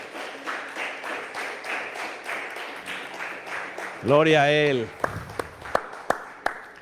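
A church congregation claps rhythmically under a loud preacher's voice. A short shouted phrase follows, then a few scattered claps ring out.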